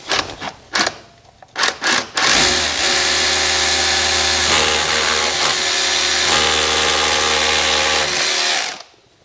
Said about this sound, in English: we're just going to drill a load of new ones now